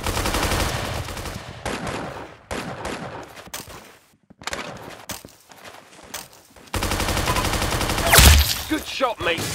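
Video game gunfire rings out in loud bursts and rapid shots, drops into a brief near-silent gap, then returns with a sharp closing shot.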